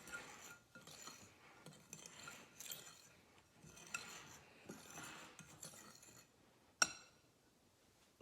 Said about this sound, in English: We're going to give this a whisk.